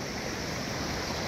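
The Patikhola river flows in a steady, full rushing wash of water, close and unbroken with no other sounds.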